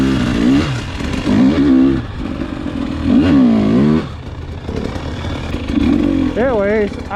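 A 2021 KTM 300 XCW TPI dirt bike engine drones and rises and falls in pitch nearby on a winter sand ride, with a voice heard over it.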